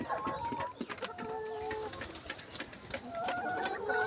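Layer hens in a coop cluck and coo softly in several overlapping short calls against a quiet background, with no talking.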